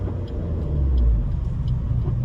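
A Suzuki Swift Sport ZC32S with a failed gear linkage driving along in third gear, a steady low engine and road rumble heard from inside the car, with no talking.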